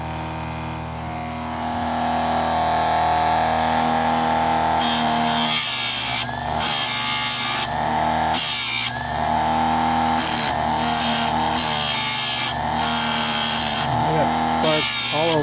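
A Harbor Freight chainsaw chain sharpener grinds a chain, its steady electric motor hum running throughout with repeated bursts of harsh grinding as the wheel meets each tooth, fairly loud and close.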